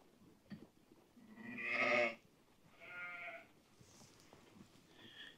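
A sheep bleats twice up close on a winter farm, one long loud bleat followed by a shorter, quieter one, then faint rustling and another weak call.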